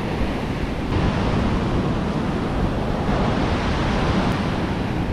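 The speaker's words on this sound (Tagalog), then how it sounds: "malakas ang alon." A continuous loud roar of heavy surf and wind at the shore in Buruanga, Aklan, Philippines, dense and unbroken, with no voices.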